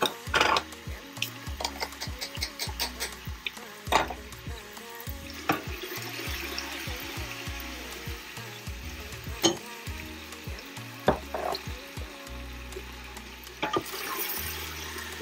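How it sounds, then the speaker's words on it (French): Meat sizzles and fries in a pan as a spice mix is stirred through it, with repeated scraping and clattering from the stirring and some running water from a tap in the background. "Je vais bien touiller et par la suite baisser un peu le feu pour que la viande puisse s'imprégner de mon mélange"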